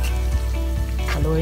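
Garlic sizzles in a hot pan with a dense, steady frying crackle and occasional stirring scrapes close up. The sizzle runs continuously at a fairly loud level.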